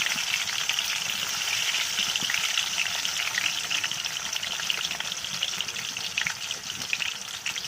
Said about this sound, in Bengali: আলুগুলো ভেজে নিচ্ছি।